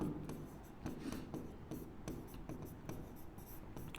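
A pen writing a math solution on paper, with soft, irregular scratching and short strokes running close and continuous under a quiet room, no talk.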